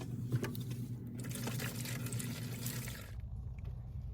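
Water runs into the overflow reservoir of a Precision Temp TwinTemp Junior water heater, a steady close filling rush that cuts off about three seconds in, leaving a low hum.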